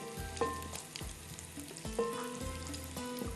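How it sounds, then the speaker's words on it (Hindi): Drumstick kebabs frying in hot oil, a steady sizzle with periodic clinks and soft knocks, as though the pieces are being turned, close and moderately loud with no talking. "बस इसको इस तरह से हमने फ्राई करना है"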